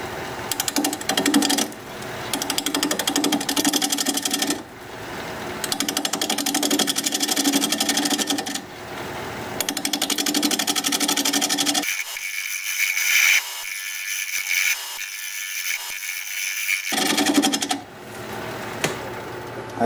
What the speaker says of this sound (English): We're going to be turning at 725 RPM.